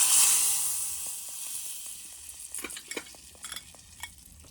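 Curry leaves hit hot oil with asafoetida in a tempering for dal, opening with a sharp loud sizzle that quickly fades into soft frying hiss and a few light stirring clinks of a spoon against the pan.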